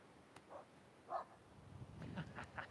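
A dog barking faintly at an oceanfront yoga session, a few short separate barks and yips at a distance over a low background hum.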